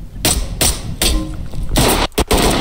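Loud, close gunfire from the tactical shooter Ready or Not, a burst of sharp cracks at roughly half-second intervals followed by a quick double shot, with brief muffled shouting mixed in.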